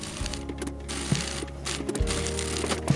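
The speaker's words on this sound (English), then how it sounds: "stitch along that short edge with a 1 cm seam allowance" A sewing machine stitches a short fabric seam with a 1 cm seam allowance in brief mechanical bursts, a close, quiet whirring and clicking.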